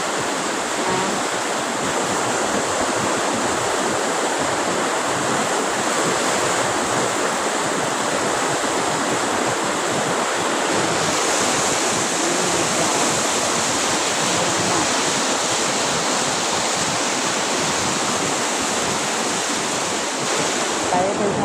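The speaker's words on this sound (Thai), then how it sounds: "น้ำขึ้นจ้ะขึ้นอย่างเยอะเลย น้ำที่ฝาย ตกมาติดต่อกันหลายวัน ดูความแรงของเนา" Floodwater swollen by several days of rain rushes over a rural weir in Thailand, a loud, continuous roaring wash with steady turbulence and some wind buffeting the microphone throughout.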